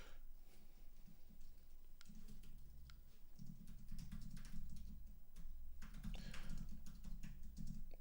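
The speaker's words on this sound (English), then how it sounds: "I'm typing so fast, bro." Rapid typing on a computer keyboard during an online Goat Format card game championship match, a dense stream of quiet clicks and taps over low background hum.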